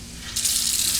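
Tap water gushing over peas being rinsed in a sink, a close, steady rushing spray that swells suddenly and keeps flowing.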